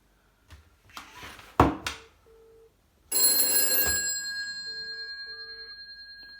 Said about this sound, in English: I won't ring it for long, but I will just let it ring and I'll pick the phone up.